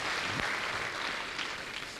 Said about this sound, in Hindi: अब एक क्लैप, दूसरा हाथ उठा के फिर ताली बजाओ ऊपर ही ऊपर।